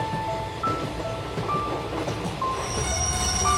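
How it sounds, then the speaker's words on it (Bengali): A cartoon train pulls into a village station and comes to a stop, its wheels rumbling and clattering on the rails while squealing brakes ring out in long high tones, loud and close, with no voices. "দুজনের এসব কথার মধ্যেই ট্রেন মোহনপুর স্টেশনে এসে থামে।"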